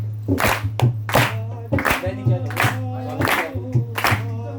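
During a Shyam bhajan kirtan for Guru Purnima, people clap along in a loud, close, rhythmic pattern of grouped claps while a steady tone drones underneath.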